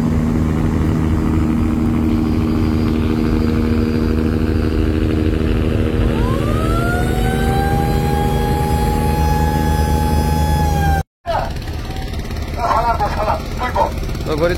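The passenger launch MV Karnaphuli-13 pulls away from the ghat, its engine a loud, steady low drone that swells and rises in pitch midway, then settles, with faint background voices.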